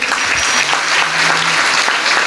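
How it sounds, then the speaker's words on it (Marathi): Loud, sustained applause from a large audience at a kirtan devotional performance, dense steady clapping filling the space throughout without a break. "एकदा जोरदार महाराजांसाठी टाळ्या होऊन जाऊ द्या"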